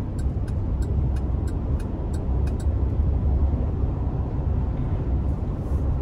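A 2020 GMC Savana 2500 conversion van accelerates on a test drive, its engine and road rumble holding steady and loud from start to finish, with a few faint high ticks early on.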